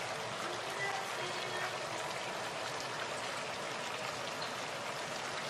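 Tempeh simmering in a spicy sauce in a pan, a steady soft bubbling hiss that holds level and fairly close for the whole stretch, with no talk over it.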